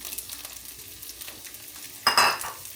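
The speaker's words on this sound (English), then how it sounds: "a nice sizzle." Bell peppers crackle softly in hot oil in a pan on high heat with light stirring scrapes, then a louder burst of sizzling near the end.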